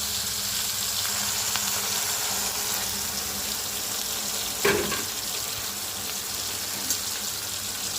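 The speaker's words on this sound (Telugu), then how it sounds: "ఒక రెండు నిమిషాలు అయితే బాగా ఆయిల్లో ఫ్రై చేసేసుకోవాలి" Chicken frying in hot oil in a home kitchen, a continuous close sizzle hissing steadily throughout, with one brief louder clatter midway.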